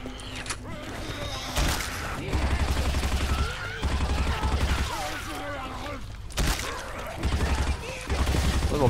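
Rapid bursts of automatic gunfire from the video game Left 4 Dead 2 repeat in several clusters with short pauses between them, loud and close, with a player's voice talking between the volleys.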